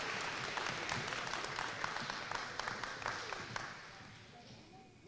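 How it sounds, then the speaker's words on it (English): Applause from an audience at a high school scholarship ceremony, a steady wash of many clapping hands that stays fairly loud, then thins and fades over the last second. "Let's give her village a round of applause."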